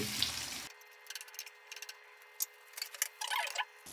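Water splashes into a hot pan of sautéed aromatics for mung bean stew, with crackling sizzle, followed by scattered pops and bubbling hisses that come and go.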